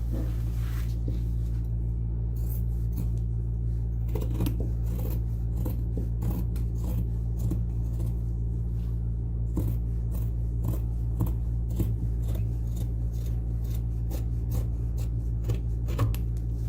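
Scissors snip through stiff denim jeans fabric in a steady series of sharp, crisp cuts, close and clear over a constant low hum, with no talking.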